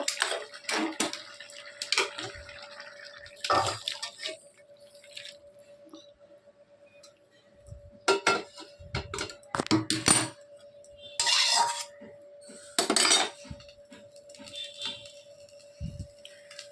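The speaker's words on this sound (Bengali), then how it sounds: "তো এটাকে আমি একটা পাত্রে ঢেলে নেব" Cooked pumpkin greens with potato and eggplant being poured and scraped from a pan into a vessel: scattered metallic clinks and scrapes with wet slops, a steady faint hum beneath and a voice talking at times.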